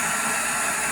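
A hair dryer running on its low setting while melting ice in a refrigerator ice maker, giving a steady, close, airy whoosh with no break.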